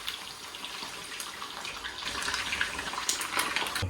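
Cold water runs from a tap while tofu strands are rinsed during cooking, a soft steady splashing gush that swells slightly louder toward the end, with no talk over it.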